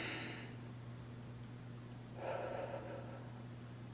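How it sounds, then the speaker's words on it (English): A single deep breath drawn in during a calm meditation moment, heard as a soft, airy rush lasting under a second, close and quiet over a low steady hum. "But if you just take one breath in"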